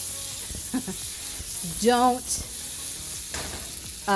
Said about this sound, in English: Okay, so now I've got the garlic and onions in there